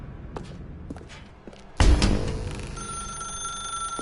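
A telephone in The Stanley Parable starts ringing after a loud thump, its bright electronic ring holding steady over soft footsteps and room ambience.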